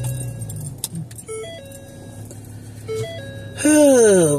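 A car engine being cranked and started: a few electronic chime tones and a small jingle come first, then the motor catches with a sudden loud burst and a rising rev that keeps going to the end.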